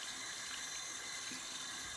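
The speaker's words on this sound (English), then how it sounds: "we will rinse all of those bubbles down the drain" Tap water runs steadily into a sink as soapy hands are rinsed, a constant soft hiss and splash with no voices.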